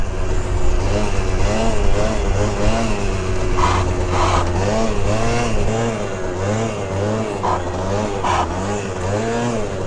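A Honda Elite 50 scooter fitted with an aftermarket exhaust buzzes along steadily and close by while doing a wheelie, its engine pitch wavering as the throttle rises and falls. No talk is heard.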